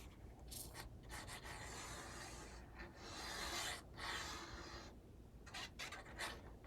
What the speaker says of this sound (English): All right, I will burnish.